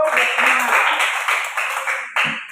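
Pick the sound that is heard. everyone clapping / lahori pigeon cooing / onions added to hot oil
everyone clapping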